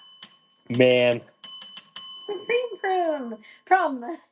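A small bell rings with a bright tone that lingers and slowly fades while someone talks over it.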